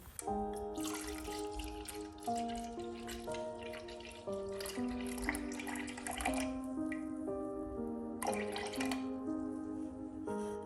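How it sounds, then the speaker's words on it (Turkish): Cooled turmeric water strained into a container, a continuous close trickle and patter of dripping liquid, with no talking. "Hazırladığım zerdeçallı su soğudu. Şimdi bunu süzüyorum."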